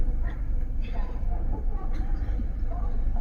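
Train pulling into Kharagpur station, heard from inside a 3E coach of the 12840 superfast express: a steady low rumble runs throughout, with people talking over it.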